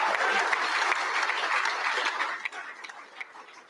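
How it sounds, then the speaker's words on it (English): A large crowd applauds at a political rally, dense steady clapping that gradually thins and fades out. "Notice what's getting the biggest applause."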